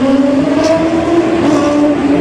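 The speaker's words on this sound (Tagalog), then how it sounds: "Maharurot yung mga motor dito, guys" Big motorcycles revving and roaring past on a cobblestone street near Fort Santiago and Plaza Mexico, a loud, steady engine drone that swells slightly as they pass, close by with no talk.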